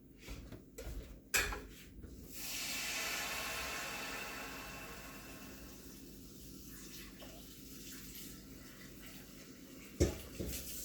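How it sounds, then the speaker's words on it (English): Water runs into a pot coated with freshly made sponge toffee, a steady rushing pour lasting several seconds, with clanks of the metal pot at the start and end, close and alone without talk. "Okay, let's put some water on this immediately."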